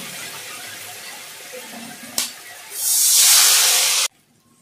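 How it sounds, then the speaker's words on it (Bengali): Water hits a hot pan of chilli garlic potatoes and tomato sauce: after a low sizzle and a brief tap, a loud hissing burst swells and holds for over a second, then cuts off abruptly. "দিয়ে নেবো সামান্য পরিমাণ জল"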